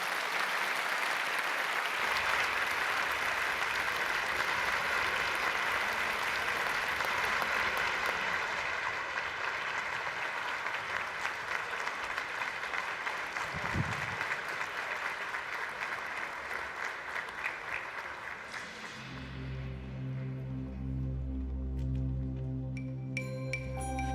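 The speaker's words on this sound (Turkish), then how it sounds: "Sayın Cumhurbaşkanımızı büyük bir alkışla sahneye arz ediyorum efendim." Sustained, dense applause from a large audience welcoming the President on stage at a Quran recitation competition final ceremony, loud and continuous for most of the span before fading as low music begins.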